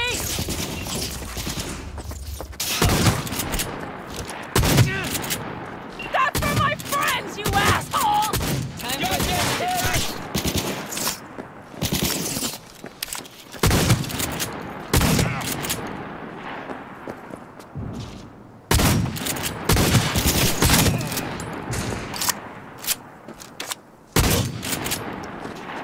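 Heavy gunfire during a Cyberpunk 2077 firefight against a sniper behind a van, with bursts of loud shots and booming impacts clustered irregularly and brief lulls between volleys.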